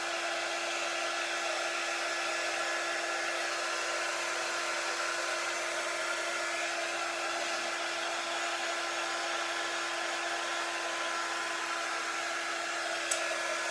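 A hair dryer blows continuously at a steady pitch, a loud, even whoosh with a constant motor hum throughout.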